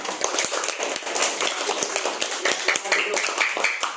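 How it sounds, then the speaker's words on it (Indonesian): Students in a classroom give a round of applause, with quick scattered claps rising and falling over several seconds while voices chatter underneath. "Biar semangat kita kasih tepuk tangan buat Rifki semuanya."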